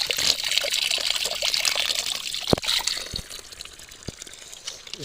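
Fresh water runs steadily from a rural village spring source, a continuous close trickle with a bright splashing hiss and a few sharper drips standing out.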